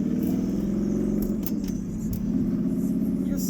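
A 2009 Audi R8 with a V8 and gated six-speed manual drives in sport mode on a motorsports park track, its engine a loud, steady low drone heard from inside the car.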